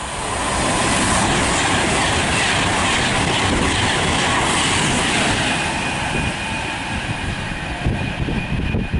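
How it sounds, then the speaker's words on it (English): Loud, continuous roar of a Pendolino express passing at speed through Nuneaton station on the West Coast Main Line, with rushing wind, wheel rumble and faint high squeals, close and steady throughout. "passing through now is a Pendolino to Liverpool South Parkway"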